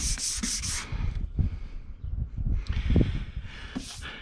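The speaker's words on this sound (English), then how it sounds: "the 2000 grit, I'm gonna have to use hand sanding." Headlight lens being sanded by hand with 2000 grit sandpaper, a series of close, soft scratchy rubbing strokes in irregular bursts, with quieter pauses between them and no talking.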